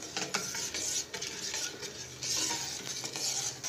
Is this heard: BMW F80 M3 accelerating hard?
no